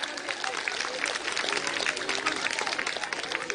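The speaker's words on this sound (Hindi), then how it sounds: "एक बार जोरदार ताली बजा करके आप सभी अभिनंदन करें" A crowd at an outdoor political rally in Delhi claps loudly and continuously, a dense wash of applause with some voices mixed in.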